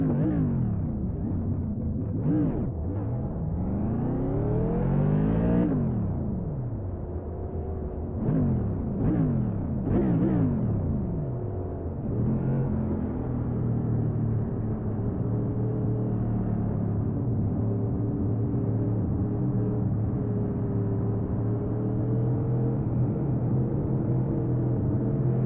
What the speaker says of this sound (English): Pace car on the move.